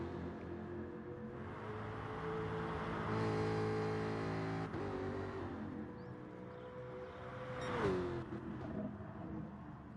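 A race car engine in Gran Turismo Sport drones steadily at mid revs, rising and falling as the car brakes and accelerates through a turn, with a sharp shift or rev change near the end.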